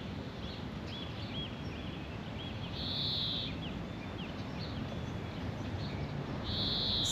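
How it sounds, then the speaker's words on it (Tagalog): Repeated bird calls in New Zealand, short whistled notes and a few sharper chirps, sounding from a distance over a steady outdoor hiss and low rumble. "Weird yung huni ng ibon."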